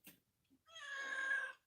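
A cat on a farm gives a single drawn-out meow, close and fairly clear, after a couple of faint brief noises in otherwise quiet surroundings.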